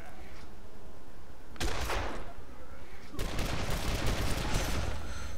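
Video game gunfire erupting in two loud bursts of rapid shots, the first brief and the second sustained, over a quieter background.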